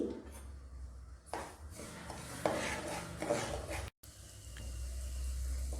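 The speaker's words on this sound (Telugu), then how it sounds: "నెయ్యి కొద్దిగా వేడెక్కగానే గోధుమ నూక వేసేసుకోవాలండి." Wheat semolina roasting in ghee for almond halwa, a spoon scraping and stirring in a metal pan with soft clinks and a low frying hiss, close and fairly quiet.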